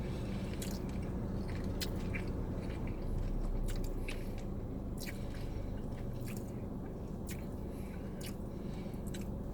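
Someone chews a turkey burger close up, with soft wet squishing bites and a few sharp crunchy clicks over a steady low background hum, and no talk.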